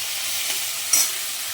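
Potatoes cut into large chunks sizzle steadily in a frying pan, a constant close hiss with one brief louder stir near the end and no talking.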